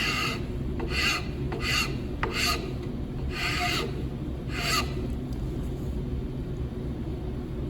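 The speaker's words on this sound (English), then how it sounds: "We can now go to a smoother file, and we can do our last little bit" A fine file smoothing a wooden wine bottle topper, giving short rasping strokes in bursts of about five passes with brief pauses between them, close and fairly loud over a low background hum.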